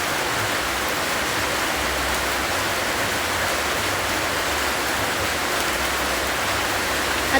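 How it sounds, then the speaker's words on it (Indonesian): Heavy rain pours down in a steady, dense roar, loud and close, a constant broadband wash with no pauses through the whole stretch and no voices over it. "Ini hujannya banget guys."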